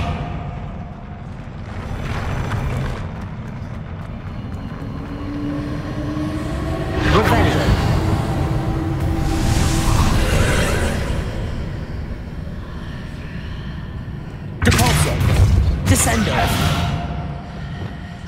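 Spell impacts from Depulso and Descendo in Hogwarts Legacy, heavy whooshing blasts and thuds over a steady low game rumble, with a sharp loud burst near the end.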